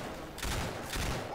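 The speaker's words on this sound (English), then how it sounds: "Watch where you're shooting!" Gunfire in the zombie video game Left 4 Dead 2: a short, dense burst of rapid, continuous shots, loud and close, with no talking.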